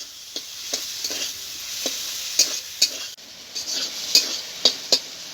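Fried Chandramukhi potatoes tossed with spice masala in a pan, a low sizzle broken by about a dozen sharp, evenly spaced spatula knocks and scrapes against the metal, close and without talk.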